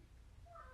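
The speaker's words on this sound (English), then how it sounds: "That's a cat. We have cats in the house." A house cat gives one short meow that rises quickly and is cut off at the end, close and fairly loud after near silence.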